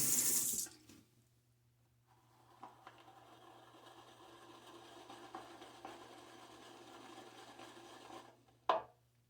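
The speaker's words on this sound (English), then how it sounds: "It does get slippery when the lather gets on it, but you can just do a quick, handle rinse to fix that, like so." A Fatip Piccolo razor handle gets a quick rinse under a running tap: a steady close stream of water for several seconds, ending with a brief splash and clatter.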